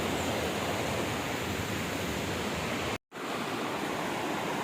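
Cold water from the hills rushes steadily in a stream near Coimbatore, a dense, close broadband wash with a sudden brief dropout about three seconds in before the flow resumes.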